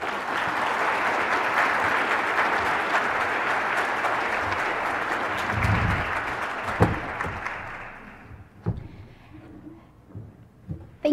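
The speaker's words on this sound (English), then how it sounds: "Please give them a welcoming round of applause." A conference audience gives a panel of experts a long, steady round of applause that fades out after about eight seconds, followed by scattered knocks and shuffling in a quiet room.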